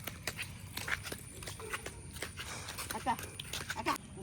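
A horse near a river moves about with faint, scattered hoof clops, quiet and somewhat distant beneath people's voices.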